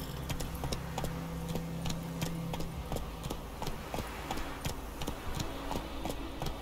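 The horse Roach trotting in The Witcher 3, hooves clip-clopping in a steady rhythmic patter, close and clear under ambient game sound.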